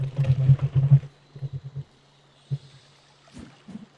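Wading through water in the video game Dungeon Lords: a quick run of splashy sloshing steps, then scattered softer splashes and swishes, moderately close, with no talk.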